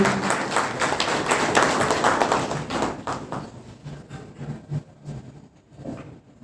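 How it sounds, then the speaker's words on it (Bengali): An audience claps to welcome a woman translator onto the stage at an evening history talk. The applause is dense and steady for about three seconds, then thins into scattered claps and dies away. "একটু হাততালি দিয়ে ওনাকে মঞ্চে ডেকে নেব"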